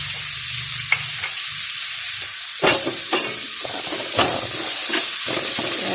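Garlic frying in a pan for a mung bean sauté, with steady broadband sizzling and a few louder crackles and stirring scrapes, close and continuous with no talking.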